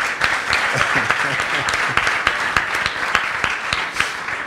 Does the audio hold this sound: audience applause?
yes